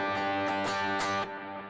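Electric guitar chords with a washy reverb, a few strummed hits blooming into a lingering, fading tail.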